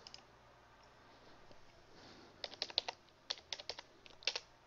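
Quiet keystrokes on a computer keyboard while editing in a CRM grid, a soft, scattered tapping that comes in short clustered bursts with a few louder clicks, like a final Enter press, heard close and alone.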